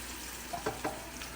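A faint, steady hiss of hot oil sizzling as spices are tempered for dhokla, with a few brief crackles and spits near the middle.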